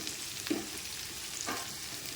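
Onions cooked three-quarters through sauté with cinnamon, cloves, star anise and cardamom for a mutton kuzhambu, giving a soft, quiet sizzle with a couple of brief stirring scrapes.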